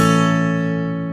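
A guitar barre chord strummed once, every string ringing clean and full, the chord fading steadily over about a second with no buzz.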